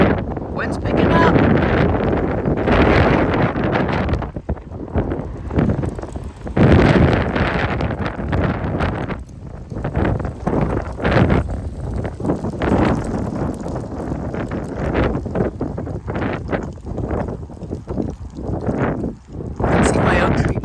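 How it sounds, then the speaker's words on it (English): Strong wind gusts of around 40 mph during a West Texas dust storm in Frisco, Texas, roar and buffet a nearby microphone in loud, surging waves with brief lulls, while a person speaks at times. "Here it comes. Wind's picking up."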